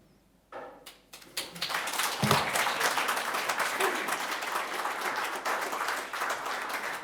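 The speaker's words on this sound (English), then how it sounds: "That's probably the most applause I've ever got for any kind of legal speech" An audience at the NFT.London 2022 conference applauds after a talk on metaverse law, scattered first claps quickly swelling into loud, sustained applause that carries on steadily to the end.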